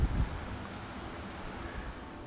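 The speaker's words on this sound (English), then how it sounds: "The wind actually just blew a bunch of them off." Steady outdoor wind rushing and buffeting a microphone during plein air oil painting of autumn scenery, with a stronger low gust at the start and then a constant broadband roar.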